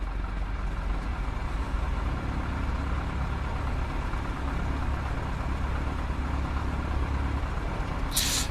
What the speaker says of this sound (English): Let the engine idle at 700 RPM.